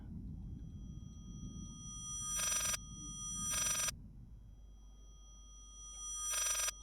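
A phone rings in the horror video game Layers of Fear, three bursts of electronic ringing at fairly even intervals over a low ambient rumble, with no voices.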